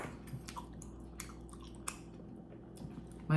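Someone chews homemade kimchi at a home-cooked Lunar New Year meal, with quiet wet crunching bites close to the mic against a low steady background hum.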